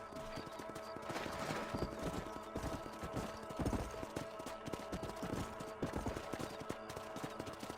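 Steady clip-clop of horse hooves at a trot in the video game Red Dead Redemption, close and continuous, with a rhythmic clatter over a background of ambient game sounds.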